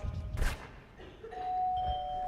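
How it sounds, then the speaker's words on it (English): A two-tone home doorbell chime rings once, close and clear, with a soft thump just before it and faint room noise around. "I don't remember the last time our doorbell rang this much."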